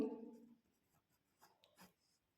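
Pen scratching on paper in a quiet room while a Class 10 maths board exam problem is worked out, a few brief soft strokes after a fading voice at the start.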